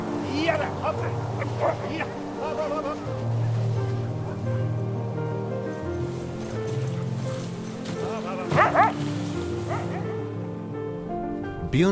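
Several sled dogs bark and yip in scattered bursts over a low mechanical drone, with a voice talking intermittently.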